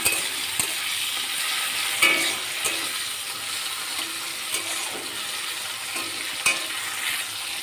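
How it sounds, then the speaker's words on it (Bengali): Tomato frying in a pan is stirred, giving a continuous sizzling hiss broken by a few metallic scrapes and light clinks of the spoon against the pan, close and without speech. "টমেটোটা একটু নেড়ে নেব ভালো করে।"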